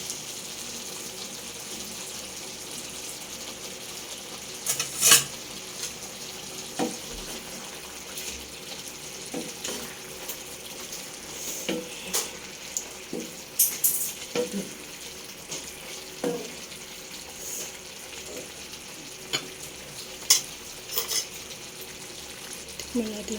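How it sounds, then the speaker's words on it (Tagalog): Sautéed chayote is stirred in a frying pan, with a soft background sizzle broken by repeated scrapes and knocks of the spatula, and faint voices now and then. "Haluin natin."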